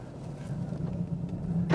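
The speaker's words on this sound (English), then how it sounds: "let's go for a spin around the Camaro" A 2016 Chevrolet Camaro SS with a manual clutch pulls away, its engine a steady low rumble that swells slightly toward the end, heard from close by with no talking.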